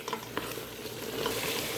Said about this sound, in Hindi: कद्दू डालने के बाद हम इसको 4 से 5 मिनट तक अच्छी तरह फ्राई करेंगे।